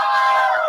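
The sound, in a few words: church congregation shouting for joy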